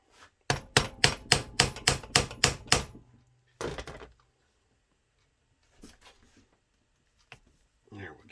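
A distributor part for a 239 V6 is struck with a hammer while held in a vise on a heavy workbench: eight sharp, evenly spaced metallic blows, one more hit, then a few faint clinks.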